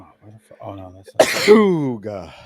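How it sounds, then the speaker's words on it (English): A single sharp sneeze bursts out loud and close, breaking up casual chatter and followed by more talking. "That was a sneeze. That was a sneeze."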